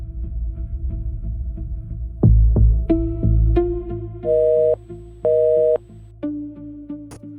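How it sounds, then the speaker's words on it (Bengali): A telephone busy signal sounds after a few dull thumps, with steady tones followed by two short, loud repeating beeps, then a lower tone. "এত রাতে ফোনটা ব্যস্ত।"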